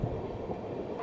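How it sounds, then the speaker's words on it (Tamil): Sapthagiri Express AC train running fast on the Chennai–Tirupati line, a steady loud rumble of wheels and carriage with no clear rhythm of rail joints, heard from inside the coach. "இப்போ இனிமேல் கண்டிப்பாக ட்ரெயின் ஃபாஸ்ட்டாக தான் போகும்னு நினைக்கிறேன்"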